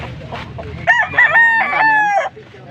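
A rooster crows once, loud and close, a long drawn-out cock-a-doodle-doo over faint background murmur.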